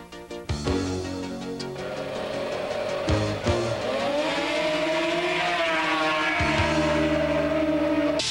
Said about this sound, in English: These machines have a maximum engine size of 250 cc.